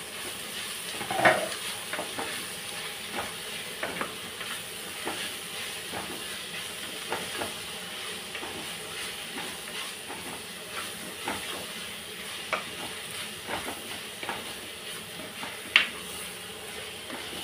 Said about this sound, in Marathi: शेवग्याचा जो पाला आपण कापलेला आहे तो टाकूया। आणि छानपैकी असं परतून घ्यायचं आहे।